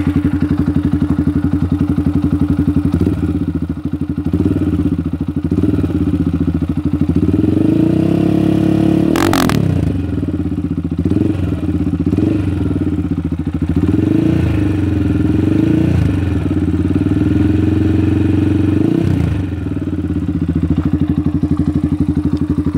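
A GPX CR5 200cc motorcycle engine idles steadily and loudly throughout, with a sharp revving burst near the middle and rhythmic throttle blips after, no talking.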